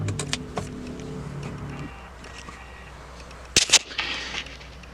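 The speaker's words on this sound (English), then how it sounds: "It switched from high speed to low speed and brought it down to the bottom of the wipers." A car windshield wiper motor switches off and parks the wipers: a steady whirring motor hum drops out after a couple of seconds, followed by a quieter stretch and a few sharp clicks and thumps as the blades settle.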